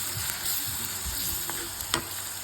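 Ginger garlic paste and turmeric frying in hot oil as the base for a mutton fry, a steady close sizzle with a few soft scrapes of stirring and no voices.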